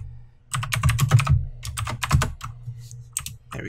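Fast, uneven keystrokes on a computer keyboard during a Minecraft building session, a close burst of clattering taps with brief pauses and a few final strokes.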